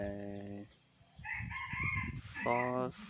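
Chicken and rooster sounds: a rooster crows loudly at the start and again near the end, with clucking and rustling between, all close by.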